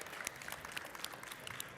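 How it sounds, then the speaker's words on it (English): An audience at a costume design panel gives a light, steady round of applause, faint and distant-sounding, with scattered individual claps standing out from the patter. "Please give them a hand of applause before we begin."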